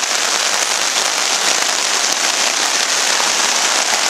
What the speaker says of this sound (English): Pouring down rain. That's the tarp you're looking at.